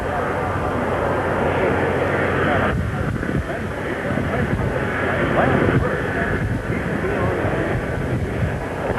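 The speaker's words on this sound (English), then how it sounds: "the vice president's plane should land first so he can be on hand then to greet the president" A plane carrying the vice president arrives at the Dallas airport in 1963, its engines a steady, broad roar at moderate distance, heard under a commentator's voice.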